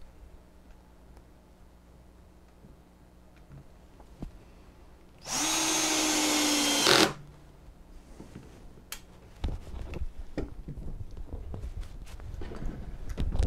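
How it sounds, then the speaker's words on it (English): A power drill driving in a screw whirs in one steady burst for about two seconds, followed by scattered knocks and handling noises. "I'm going to drive in the screw."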